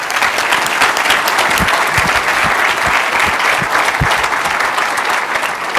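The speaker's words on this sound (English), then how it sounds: "give him a round of applause" A conference audience applauds as a keynote speaker is invited up, with loud, continuous clapping and a few low thumps scattered through it.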